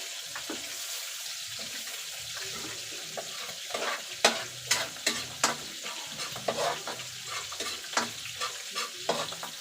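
Garlic fries in a pan with a steady close sizzle while a utensil stirs and scrapes it, giving repeated sharp clanks over the continuous frying hiss.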